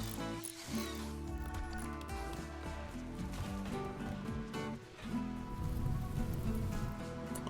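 Rain in RimWorld falls as a continuous soft patter layered under steady background music, moderately quiet and unbroken, with no voices over it.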